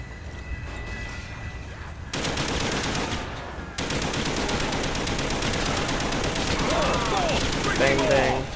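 Rapid automatic fire from an HK gun in Call of Duty Black Ops Zombies, dense loud bursts of gunshots running almost continuously, with game effects and a voice talking underneath.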